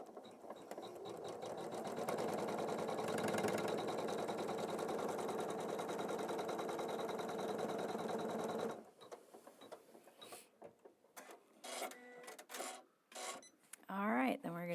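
An embroidery machine stitches steadily to tack down a fabric border, a fast even mechanical whir for about nine seconds before it stops and people talk over light handling noises.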